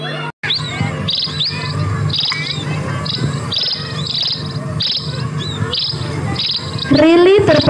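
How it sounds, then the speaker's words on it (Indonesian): A sparrow chirps in a children's drama, rapid bright tweets repeating in a steady rhythm over an insect-like background buzz, close and fairly loud, with a rising squeal near the end. "ia melihat ada seekor pipit yang datang kepadanya"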